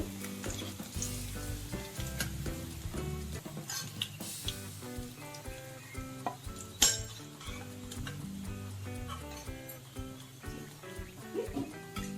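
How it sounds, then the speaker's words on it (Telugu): Pocket samosas filled with vegetables deep frying in hot oil, giving a steady close sizzle beneath prominent background music. "ఇలా బ్రౌన్ కలర్ వచ్చేదాకా వేయించుకుని తీసేద్దాం"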